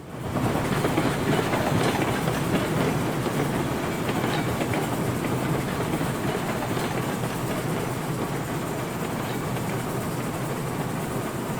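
A train rolling along the tracks in the video game Railroads Online, a continuous dense rumble with a rhythmic clickety-clack of wheels over rail joints, steady and loud with no talking.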